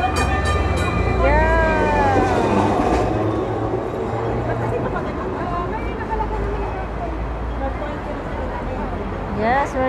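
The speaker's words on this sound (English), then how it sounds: "we're going to ride the tram" A Hong Kong tram running along its rails between Central and North Point, a continuous low rumble with high metallic wheel squeals rising and falling, close and loud, while people talk nearby.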